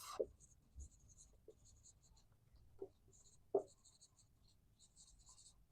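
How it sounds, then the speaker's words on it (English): Pen or marker strokes writing out a definition during a physics lesson on lenses, soft scratching bursts spaced irregularly with quiet gaps between, close and faint. "I will write the definition"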